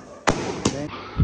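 Sivakasi firecrackers burst outdoors in two sharp, loud cracks a moment apart, followed by a lower thump at the end, with no talk over them.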